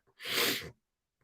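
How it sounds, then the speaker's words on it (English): A single sharp sneeze, close and loud, bursts out alone amid near silence from a man giving a football post-match reaction after West Ham versus Brentford. "I might sneeze in a minute."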